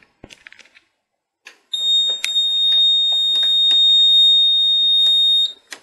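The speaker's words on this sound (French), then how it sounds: "on va faire une petite alarme déjà pour voir comment se comporte la centrale" Fire alarm panel sounding after a smoke-vent trigger is set off on a first floor, a loud steady electronic tone that starts abruptly after a few faint clicks and holds for about four seconds before cutting off.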